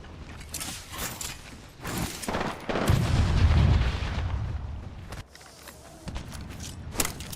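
A grenade goes off in a competitive video game match, a heavy booming blast that swells and rumbles low for a couple of seconds amid scattered mechanical clicks and smaller bangs, with no talk over it.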